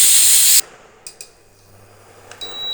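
Oil hitting a hot kadai in a home kitchen, a loud broadband sizzle bursting for about half a second, then cutting off to quiet room tone with a few faint clicks and light clatters, no talking.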